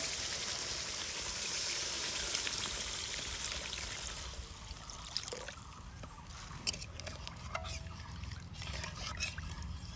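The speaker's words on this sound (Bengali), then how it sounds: "এবার দিয়ে দিব হচ্ছে জল" Water pours steadily into a pan of fried poppy-seed and spice paste for a drumstick curry, a loud broad rush that eases after a few seconds into a softer trickle with light sizzling clicks.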